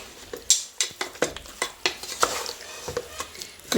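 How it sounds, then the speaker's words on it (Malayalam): A spoon stirs a beef and jackfruit mixture in a cooking pot, with repeated close scraping and clattering strokes in an uneven rhythm over a faint sizzle. "ഇതെല്ലാം കൂടി ഒന്ന് നല്ലോണം ഒന്ന് മിക്സ് ചെയ്തെടുക്കുക"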